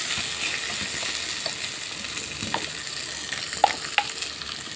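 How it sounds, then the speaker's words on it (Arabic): Rice with vermicelli fries in a pot while being stirred, giving a constant soft sizzle broken by occasional scrapes and knocks of the spoon, close up and without speech. "نزلنا بالرز اهو عليه اهو، هنقلبه بس عشان يطلع مفلفل كده وحلو."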